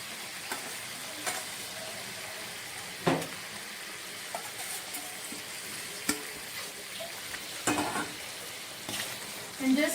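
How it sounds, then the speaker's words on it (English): Fried brinjal being stirred into a tamarind curry in a pan, a steady soft simmering hiss with scattered scraping taps of the spoon against the pan, no voices. "And just stir it."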